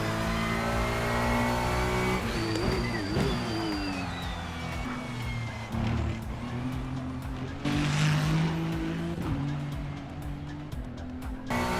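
A race car engine in a racing video game drones and revs steadily with tire squeal during wheel spin, a rising whine and shifting pitch, loud and continuous under a game soundtrack.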